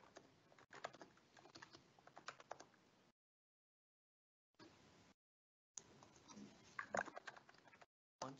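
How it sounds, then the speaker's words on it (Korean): Someone types a domain name on a computer keyboard, a quick run of close, light keystrokes that stops and starts in short bursts between gaps of silence. "저는 도메인명을 입력하도록 하겠습니다."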